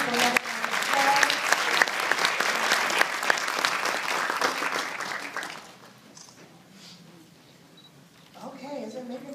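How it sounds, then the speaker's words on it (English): Audience clapping at a Rosa Parks birthday celebration after a young man's performance, a warm sustained round of applause with camera shutter clicks that fades out, leaving a quiet room and a voice starting to speak. "Give a young man a round of applause."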